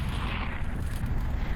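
A loud, sustained rumbling blast roars without break, deep and dense with hissing upper noise, from the explosion sub-element attack in the Roblox game Elements Divided.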